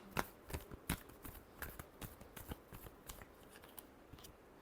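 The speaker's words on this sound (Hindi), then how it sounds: "Last shuffle." Tarot cards being shuffled, with a quick series of crisp riffling snaps and soft slides repeating through the clip at close range, fairly quiet and with no talking.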